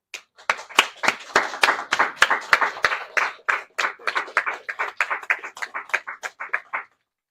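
A small group at a press conference claps in distinct, sharp individual hand claps, fairly close and uneven, lasting several seconds before stopping.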